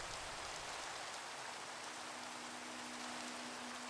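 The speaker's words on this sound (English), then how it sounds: "It's raining, it's pouring," Steady, even hiss of rain falling in the Minecraft video game, a continuous broadband patter with no breaks, moderately loud and alone, with a faint low hum running underneath.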